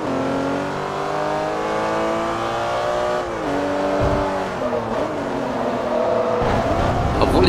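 A Ferrari races in Forza Motorsport 3, its engine droning loud and steady as the pitch climbs and drops through gear changes, with a tire squeal and a thump, while someone talks over it.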